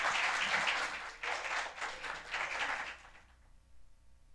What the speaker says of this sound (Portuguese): É uma salva de palmas pra Silvinha aí.